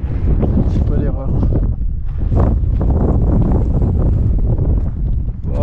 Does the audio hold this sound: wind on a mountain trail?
yes